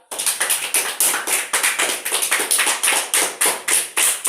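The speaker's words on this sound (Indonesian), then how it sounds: "Tepuk tangan untuk kelompok 2." Classroom students clap for a discussion group in quick, steady unison, a rhythmic train of sharp claps about four per second that stays loud and even from start to finish.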